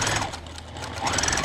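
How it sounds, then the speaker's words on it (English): A home sewing machine stitches a short four-inch seam through doll Moses basket fabric, front and lining placed right sides together, giving a steady close motor whir for the whole stretch with no talk. "I am sewing with right sides together, both the front and the lining, the seam at the end"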